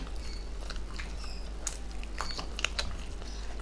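Someone bites and chews chicken lollipop during a spicy street-food eating challenge, with close, irregular crunchy bites and smacking chews over a low hum.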